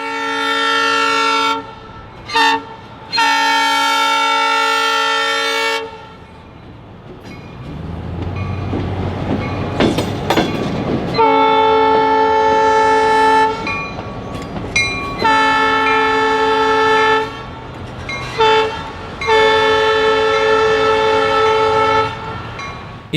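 A Southern Railway train passes with repeated loud horn blasts over the rumble and clatter of wheels on rails, nearby and building as it goes by.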